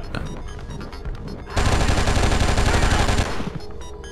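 Gunfire in the video game Oni starts as scattered shots, then becomes a loud, dense automatic burst lasting nearly two seconds before cutting off abruptly.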